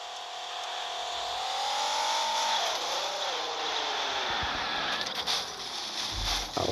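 A Nissan Skyline GT-R R34 on a top speed run, a loud, sustained engine whine that climbs in pitch, dips briefly at a gear change and keeps pulling hard, with faint clunks near the end.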